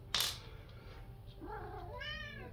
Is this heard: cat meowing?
yes